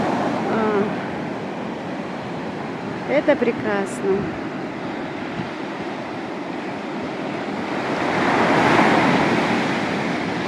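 Steady wash of Mediterranean sea surf breaking and rolling in on the shore at Mersin, Turkey, in winter, swelling louder near the end, with a brief spoken remark partway through.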